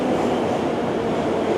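Metro train in a Tashkent metro station with glass-decorated pillars, a steady loud rumbling roar of the carriages running throughout, close by and continuous, with no talk.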